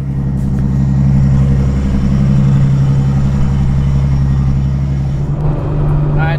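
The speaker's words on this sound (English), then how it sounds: "All right, so driving the Supra probably for the first time in at least a month." A Toyota Supra is driven, its engine holding a steady low drone with road noise at close range, the tone rising slightly near the end as it pulls away.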